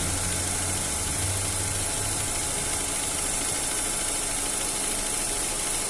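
A 2009 Opel Astra engine idles with the radiator fan switched off, giving a steady low rumble and a faint mechanical ticking that holds constant throughout, with no talk.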